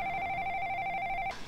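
A telephone rings in a TV drama scene, with a steady two-tone electronic ring held loud and clear for over a second before it cuts off abruptly, with no speech.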